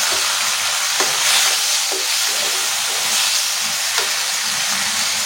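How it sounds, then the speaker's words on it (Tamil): Chopped tomatoes added to sautéing onions in a pan for sambar give a loud, continuous sizzle and hiss, with occasional soft stirring knocks throughout. "இப்போ கூடவே கட் பண்ண தக்காளியை சேர்த்துக்கோங்க"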